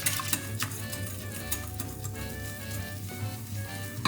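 A small whisk beats flour into a thick wartime-ration batter in a bowl, a fast, steady scraping and clinking of wire against the bowl's sides, close and continuous with no talk.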